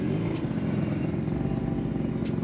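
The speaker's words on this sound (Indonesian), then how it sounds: "sekarang kita coba motor Mio dengan mesin 2 tak ini." A Yamaha Mio scooter with a two-stroke engine rides along, its motor a close, steady buzzing drone marked by faint regular ticks, with no voices over it.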